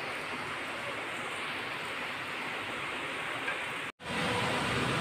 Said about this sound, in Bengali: কি বৃষ্টি হচ্ছে।